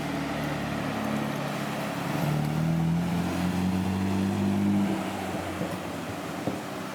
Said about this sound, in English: I hear an RB26.